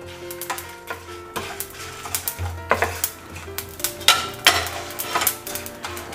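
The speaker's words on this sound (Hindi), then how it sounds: "अजवाइन और मेथी, ये सारे को बहुत अच्छी तरीके से रोस्ट कर लेंगे" Ajwain and fenugreek seeds dry roasting in a pan, with a series of light scraping and stirring clicks against the metal and a faint sizzle running underneath, close and moderately loud with no talking.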